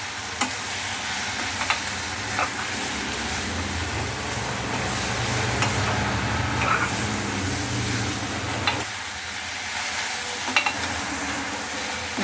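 Coriander and curry leaves being sautéed for ginger tomato chutney, a steady close sizzle with scraping stirs and occasional clinks running throughout.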